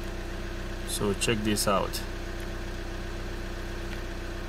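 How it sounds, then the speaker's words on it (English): A Volkswagen Jetta with a check engine light on and limp-home mode idles with a steady low hum, while a person briefly speaks over it. "as you can hear, the engine is running"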